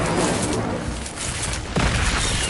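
An Incendio fire spell cast in Hogwarts Legacy, a dense roaring whoosh of flame filling the whole moment, loud and continuous with a fresh surge partway through.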